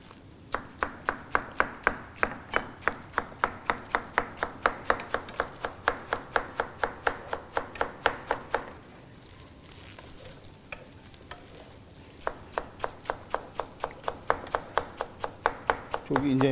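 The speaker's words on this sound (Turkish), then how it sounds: "ince ince doğrayalım." A knife finely chops curly lettuce rapidly and evenly on a cutting board, steady taps in a long run, a brief pause, then the chopping resumes.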